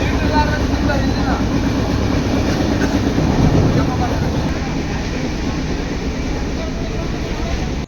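Inside a moving passenger train heading toward Bengaluru, a loud steady rumble and rattle of the carriage continues throughout, with faint clatter of wheels on track.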